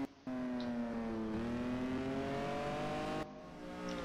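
Racing video game PGR 4 car engine holding a steady, loud, droning tone that climbs gradually in pitch as it accelerates, briefly easing off near the end, with no talk over it.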